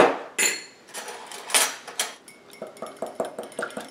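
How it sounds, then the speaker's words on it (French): Flour, baking powder and salt being mixed in a bowl while making tourtière pastry, with a utensil scraping and tapping against the bowl in short, repeated strokes, close and fairly quiet, with no talking. "je mélange pour m'assurer que ma poudre à pâte et mon sel sont bien mélangés dans la farine"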